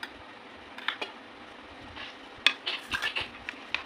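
A spoon stirs prawns with coconut paste and coconut milk in a metal pan, producing soft scraping and light clinking taps, close and intermittent with no talk.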